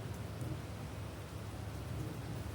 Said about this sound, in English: And some thunder.